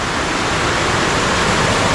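Rainwater spills from a clogged roof downspout in bad weather, a loud, steady rush of falling water that runs unbroken from start to finish with no voices.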